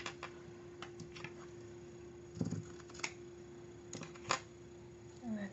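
Scissors snip through ribbon trim during a shabby chic Christmas wall hanging craft, giving a few quiet, scattered cuts over a low steady hum, with no talking.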